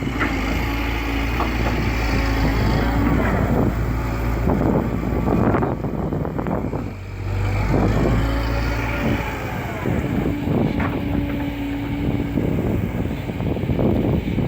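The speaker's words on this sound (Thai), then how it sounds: "ให้ชมกันแบบเพลินๆเงียบๆ สบายๆ ฟังเสียงรถ เสียงลม เสียงนก เสียงน้ำไปเรื่อย ๆ" A Komatsu PC130-8 excavator's diesel engine drones steadily and loud, its pitch dipping and rising briefly as it works, with wind buffeting the microphone.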